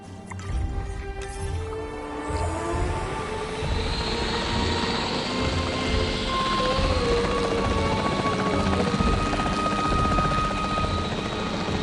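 Capture team helicopter in the dinosaur park game Jurassic World Evolution 3, a steady loud rotor drone with rhythmic low-end thumping that holds throughout, along with a layered tonal game score.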